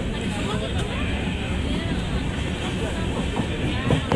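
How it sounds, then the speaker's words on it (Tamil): Train rumbling steadily on the tracks as an Indian passenger train to Shirdi gets underway, a dense continuous low roar with faint rail clatter close by, voices talking over it. "ட்ரெயின் முதல் போகுது."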